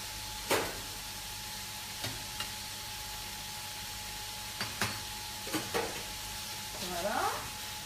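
Green beans added to a hot pan sizzle with a steady low hiss, broken by several sharp clinks of a utensil against the pan and a brief rise of stirring near the end.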